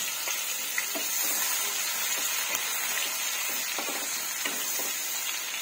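Onions sautéing in oil for crispy pork bagoong alamang, a steady close sizzle and crackle with soft stirring ticks throughout, no talking.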